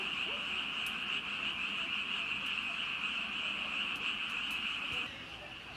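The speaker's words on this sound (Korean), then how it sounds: "개구리 소리." Frogs croaking at a forest campsite at night near Yeoju: a dense, continuous high-pitched chorus, steady and loud throughout, fading slightly at the end, with faint background noise.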